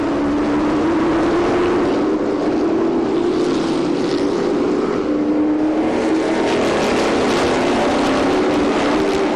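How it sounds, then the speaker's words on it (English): A historic McLaren M6B race car with a big engine climbs a hill at the 2005 Monterey Historics, a loud sustained engine roar with a steady rising pitch that holds close and constant throughout. "Those big engines just feel like they're going to rotate the earth under your feet."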